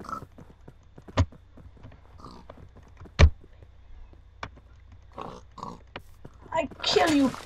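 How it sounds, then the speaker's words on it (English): A pig in the Minecraft video game gives a few short oinks among scattered game effects, heard under a player talking over the gameplay. "Go on, pig."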